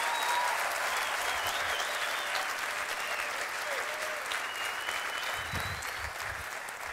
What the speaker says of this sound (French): Tu as le droit d'applaudir pour Jésus